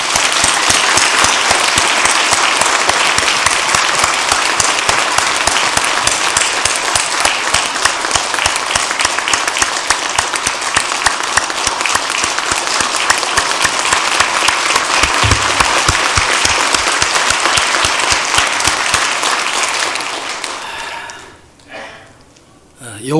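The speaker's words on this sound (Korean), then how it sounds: "큰 박수로 축복해 주시겠습니다" A church congregation gives a long, loud round of dense, sustained applause that fades out near the end.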